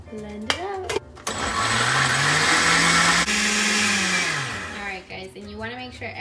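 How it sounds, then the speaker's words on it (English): Blender blending vegetables with water into a sauce, a loud whirring roar starting abruptly, running steadily for about four seconds with a slight pitch dip, then stopping, with talk before and after. "we are going to blend them in the blender"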